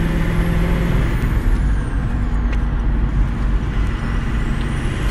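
A truck revs under throttle inside its cab, a loud, dense, steady engine roar that fills the whole stretch, with no clear break for a gear change and no talking.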